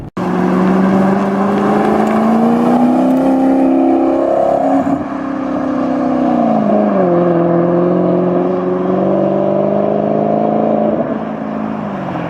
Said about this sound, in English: The engine is actually derived from a 8-cylinder Ferrari engine.